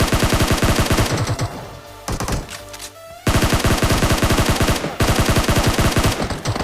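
Automatic gunfire rattles in a battle royale video game, loud rapid bursts of shots in sustained strings, broken by brief pauses around the middle, with no talking.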